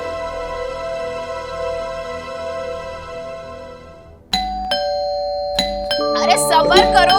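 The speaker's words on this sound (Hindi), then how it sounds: "ऐसी घंटी तो सिर्फ मिन्नी बजाती है" A doorbell chimes repeatedly in quick insistent presses, ringing tones overlapping, close and loud after a fading sustained note.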